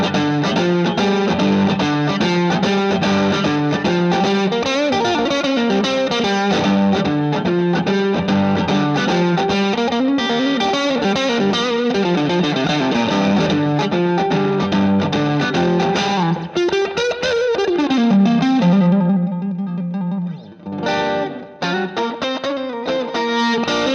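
An electric guitar plays through a Vox VT20+ combo amp set to tube overdrive with slapback delay and spring reverb: a loud, continuous, distorted blues line with echoing notes that ends on a sustained, wavering bend.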